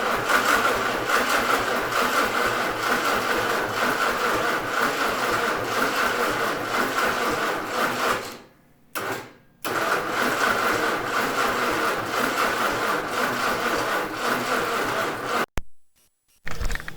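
Engine of a Vermeer 630a stump grinder cranks and runs with a loud, steady rumbling clatter, cutting out briefly twice before catching again; close by, no talking.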